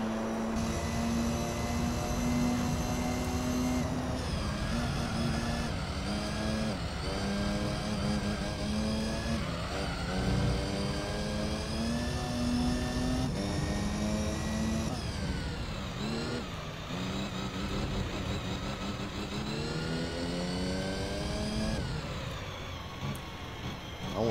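A race car engine in Gran Turismo 3 drones loudly and continuously during the Cote D'Azur Mistral endurance race, its pitch rising and falling through gear changes and braking for corners, with no talk.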